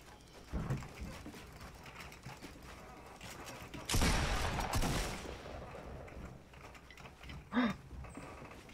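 Sniper rifle gunshots ring out in a fast-paced multiplayer video game, with a sharp near burst around the midpoint and another short crack near the end amid mechanical clatter and background game noise.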